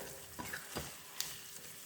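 Boiled potatoes frying in oil in a pan on a large burner, a soft steady sizzle with a few light stirring clicks, close and fairly quiet throughout.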